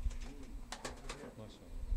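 Pigeons imported from the Netherlands coo softly in a loft, a few low rolling calls spaced across a couple of seconds at moderate distance, faint and without other sounds.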